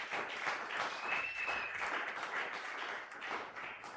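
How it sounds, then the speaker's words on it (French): A church congregation at a Sunday praise and thanksgiving service applauds and cheers loudly, with sustained dense clapping and a few raised voices or whistles filling the whole stretch without a break. "Est-ce qu'on peut acclamer très fort pour la gloire de Dieu?"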